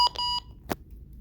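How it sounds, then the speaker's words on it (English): A disc golf game app gives a short series of electronic beeps, a few clear, bright tones in quick succession, followed by a soft click in an otherwise quiet moment. "Sorry about that beep."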